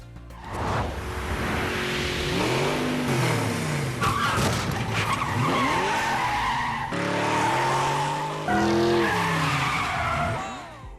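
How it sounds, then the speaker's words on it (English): A 1975 Ford Gran Torino, the Starsky and Hutch car, with loud squealing tires and skidding over a revving engine in several bursts, like a close-up chase scene. "1975 Ford Gran Torino in Starsky and Hutch."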